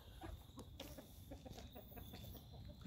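A chicken on a farm gives soft, scattered clucks close by over steady outdoor background noise.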